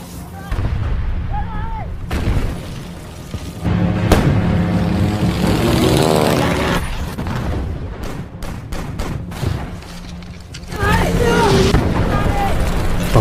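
Heavy booming cannon fire and bursts of gunfire over a constant rumble, with a sweeping engine whine of fighter aircraft passing overhead during a Japanese army bombardment.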